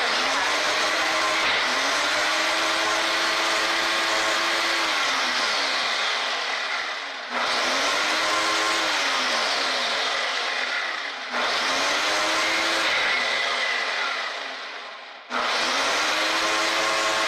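A Ninja blender whirs loudly and steadily as it blends a smoothie, running in long continuous bursts with brief pulsing dips between them.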